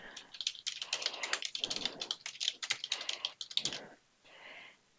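A note being typed on a computer keyboard at a pharmacy till: rapid, close, clicky keystrokes in steady bursts, then a brief pause and a faint final patter.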